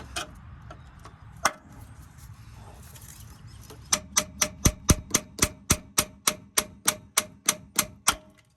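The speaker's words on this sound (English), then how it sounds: "This one I tapped, fell out. This one I just chisel a little bit." A hammer taps and chisels out guide pins on a Chevy Silverado during a caster and camber kit install: a few scattered knocks, then a rapid, regular run of about sixteen sharp metallic strikes.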